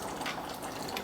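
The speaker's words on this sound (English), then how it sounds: "So I'm just going to wash out the seeds" Tap water runs steadily from a kitchen faucet while capsicum seeds are rinsed out, a close, continuous gushing splash with no talk over it.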